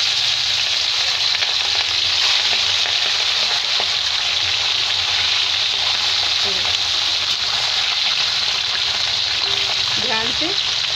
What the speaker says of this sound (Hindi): और अब मैं इसमें मछलियाँ डाल के फ्राई कर लेती हूँ।